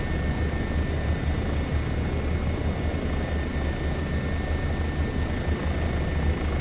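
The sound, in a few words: Bo 105 helicopter flying, video game Microsoft Flight Simulator 2024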